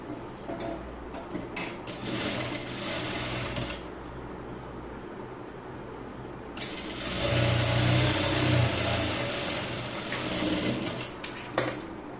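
A sewing machine hums and clatters in two steady stitching runs, one about three seconds and one about four, separated by a pause, while stitching the folded hem at the bottom of a child's pant leg.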